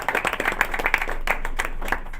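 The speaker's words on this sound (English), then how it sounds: "I think we ought to give John a round of applause." Brief round of hand clapping at a state economic development directors meeting, a modest group clapping near and fairly steady for about two seconds.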